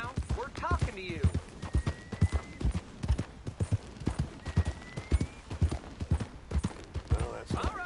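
Horse hooves clip-clop in Red Dead Redemption 2, a steady run of sharp, close hoofbeats with a brief whinny early on, while voices talk over the riding.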